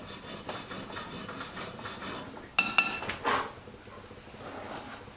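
Steel file rasping along the side of a rifle barrel in repeated rhythmic strokes, followed by a few sharp metallic clinks and scrapes, close and moderately loud with no talking.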